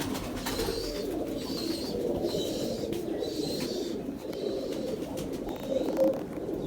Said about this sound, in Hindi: ये मेरे 29 टी कबूतर हैं जी, बड़े शानदार कबूतर